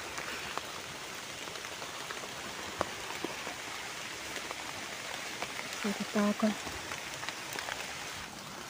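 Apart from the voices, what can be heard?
rain falling in the forest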